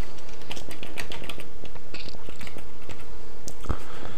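Rapid clicking keystrokes on a computer keyboard while text is typed, close and steady, with a heavier key thump near the end.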